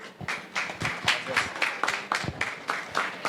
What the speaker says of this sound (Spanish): Fuerte el aplauso y damos inicio con esta presentación.